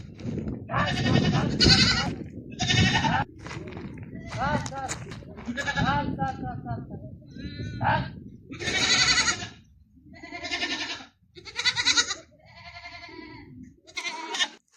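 Goats on a farm in Saudi Arabia, coming back inside after feeding outdoors, bleat repeatedly up close in short wavering calls, with a person talking over them.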